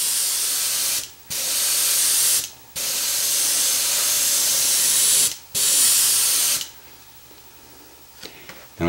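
Airbrush spraying paint onto a clear Lexan body in steady hissing bursts of about a second or two, separated by brief pauses, close and loud, ending in quieter room tone with faint clicks.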